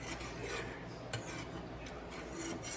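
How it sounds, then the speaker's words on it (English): Metal tongs scrape and rub through fettuccine pasta in a cooking pot, a steady rasping stir with a couple of soft clinks, close and fairly quiet. "Let me get my tongs out of there. And let's stir this around."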